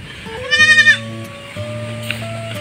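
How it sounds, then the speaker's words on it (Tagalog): Native goats on a small farm let out two bleats, a loud wavering cry followed by a softer, shorter one, with no talking. "Ayan po yung ating mga kambing."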